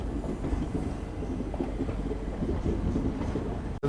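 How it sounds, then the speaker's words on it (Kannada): The Chamarajanagar–Tirupati Express rolls into Mysore Junction with a loud, steady rumble of wheels and carriage noise and faint clickety-clack, heard from inside the train, cutting off abruptly at the end. "ಮೈಸೂರು ಜಂಕ್ಷನಿಗೆ ಎಂಟ್ರ್ ಆದೀವಿ ರೀ ನಾವೀಗ."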